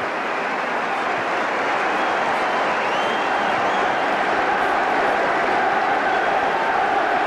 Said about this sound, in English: Great reaction from the crowd here.